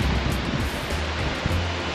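Mountain water flowing near the Amarnath holy cave in the Himalayas, a steady broadband rush with low rumble, constant and fairly near, with no voices.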